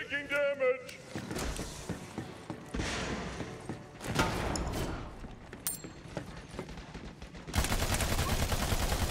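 Gunfire and mechanical weapon clatter from the Battleborn beta, with scattered shots and bursts under combat voice lines that announce incoming fire and damage, plus a louder rush of noise near the end.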